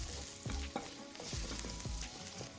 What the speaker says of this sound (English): Then add the chopped onions and saute over medium heat for another 3 to 4 minutes until the onion is